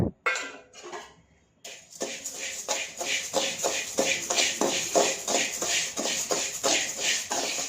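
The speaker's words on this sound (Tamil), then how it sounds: "இப்போ உடச்ச உளுந்த பருப்பை வறுத்துக்கலாம்" Broken urad dal roasting in a pan, a steady stream of soft rhythmic rattling and shuffling strokes, like stirring with a spoon, close and moderately loud after a brief quiet start.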